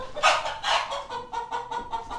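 A young chicken, offspring of a large rooster, clucks in a series of short, close calls, several rising bursts in quick succession with no talk over them.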